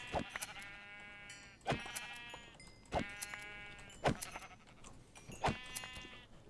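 Sheep in a survival video game bleat in a series of five loud, wavering calls spaced roughly a second apart, each standing alone over a quiet background.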